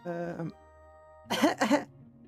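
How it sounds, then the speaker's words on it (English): Two rough, harsh coughs close to the mic, following a brief low voiced sound. "My cough, my throat hurts."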